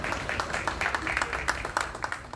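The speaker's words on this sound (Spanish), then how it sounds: "Entre aplausos" Hospital staff applaud recovered coronavirus patients as they leave a hospital in El Salvador, a steady patter of many hands clapping at moderate distance, fairly faint, with some voices mixed in.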